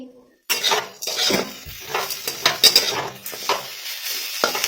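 Green peas masala sautéed in a kadhai, with a spatula scraping and clinking against the metal pan over a steady sizzle. The sound is close and busy, and no one speaks.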